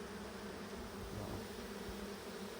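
Honey bees hum around an open hive during a UK beekeeping inspection while frames are lifted out, a steady, dense, close buzzing that holds at an even level throughout with no voices.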